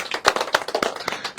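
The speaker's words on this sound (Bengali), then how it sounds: "সবাই একটু হাততালি হোক।" A small group of people claps together, a quick burst of uneven, close hand claps.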